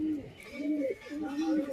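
A pair of pigeons coo close by in a few soft, throaty rolling calls repeated in quick succession, with faint room noise behind.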